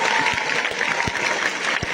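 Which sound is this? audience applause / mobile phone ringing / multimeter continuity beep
audience applause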